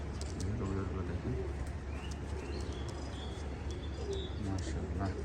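Pakistani high-flyer pigeons, including a moulting female, coo in low repeated rolling phrases close by, with scattered chirps and clicks over a steady background hum and someone talking intermittently.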